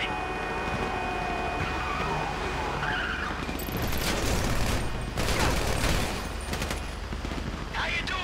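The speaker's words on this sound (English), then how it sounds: "You hear that gunfire?" Rapid bursts of gunfire mixed with tire screeches and traffic noise, over continuous background din with a distant siren, during a bank robbery mission in the video game GTA V.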